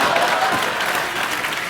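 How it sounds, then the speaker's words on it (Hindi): A studio audience on a Hindi comedy TV show bursts into loud, dense applause, a continuous wash of clapping with faint voices mixed in. "जोरदार तालियां."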